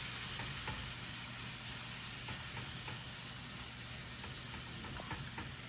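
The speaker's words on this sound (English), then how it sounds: "We're going to slowly add in some chicken stock. Stirring so you don't get lumps." A roux gravy sizzles and bubbles in a pan as chicken stock is stirred in, a constant dense hiss with faint scraping from the stirring, steady and close throughout.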